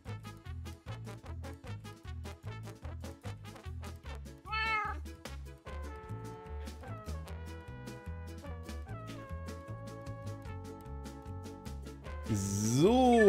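Cat meowing during Minecraft gameplay, with repeated meows over rhythmic background music and a person talking now and then.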